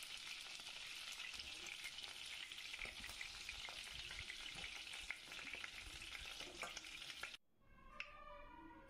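Chicken pieces deep-frying in oil give a dense, steady crackling sizzle, then the sound drops away abruptly as the pieces are lifted out, leaving faint dripping and quieter bubbling.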